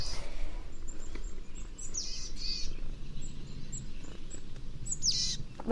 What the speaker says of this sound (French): Tous les bruits, genre les chants des oiseaux ou les trucs comme ça, ça m'apaise